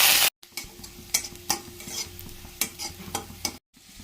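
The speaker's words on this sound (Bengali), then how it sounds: "এতে আদা কুচি, কাঁচা লঙ্কা কুচি আর রসুন কুচি দিয়ে একটু ভেজে নিচ্ছি" Hot oil sizzles as chopped ginger, green chili and garlic fry, with a series of quick stirring scrapes and clicks of a spatula against the pan.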